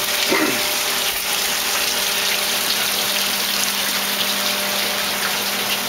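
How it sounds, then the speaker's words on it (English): A water pump in a small-scale DIY tilapia aquaculture system runs with a steady, close rushing hum and constant water gush, unbroken for several seconds. "Pump pumps the water up,"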